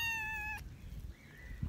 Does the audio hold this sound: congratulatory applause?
no